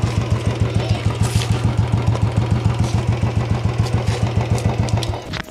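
Royal Enfield Bullet motorcycle engine idling steadily with an even, loud thumping beat for about five seconds before it tapers off at the end.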